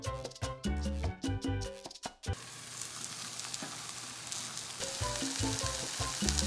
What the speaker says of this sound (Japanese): 蓋をして弱めの中火で3分蒸し焼きします